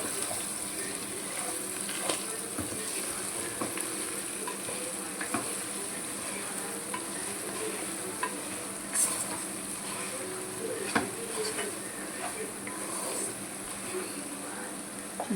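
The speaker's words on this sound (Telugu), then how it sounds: "చూసారా మంచిగా చికెన్ ఎట్లా ఫ్రై అవుతుందో" Chicken sizzles steadily in a pan with coconut powder and coriander, a continuous hiss of frying with faint scattered pops and clicks, quiet and close throughout without speech.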